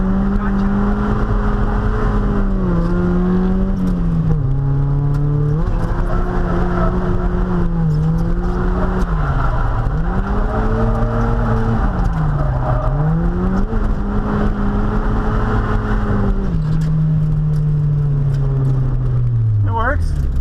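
The engine of a stock Mazda Miata drifting at a drift event, loud and close, revs continuously, its pitch rising and falling in repeated swells as the throttle is worked.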